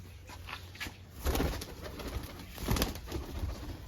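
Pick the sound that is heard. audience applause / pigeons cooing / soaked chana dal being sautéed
pigeons cooing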